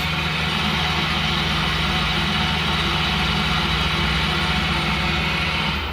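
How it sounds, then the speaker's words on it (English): A Miyano BND51C CNC lathe runs its live tooling forward at 500 RPM, giving a steady, loud, continuous machine hum with a low drone that holds unchanged throughout and no voices. "Let's just show the live tooling. This is forward, 500 RPMs."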